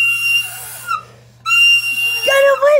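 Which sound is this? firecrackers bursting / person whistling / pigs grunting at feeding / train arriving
person whistling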